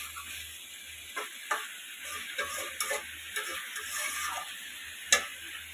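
Chicken curry sizzling in a pan while being stirred, a faint steady fry with intermittent spatula scrapes and taps against the pan.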